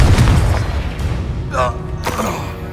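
A Confringo fire-blast spell from the Hogwarts Legacy video game bursts out as a booming explosion, a loud deep blast that rolls on under game sounds with brief voices.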